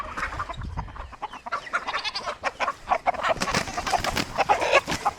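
Chickens cluck and squawk in a small, crowded pen on a farm, a busy overlapping chorus of bird calls at moderate level, close by and continuous.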